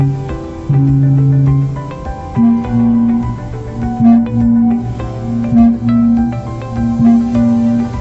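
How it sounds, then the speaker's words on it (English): Hanging gamelan gongs, the large gong and kempul, sound in deep, sustained pulses with repeated ringing strokes, mingled with other bronze ensemble tones, steady and loud. "here's the sound of gong and kempo"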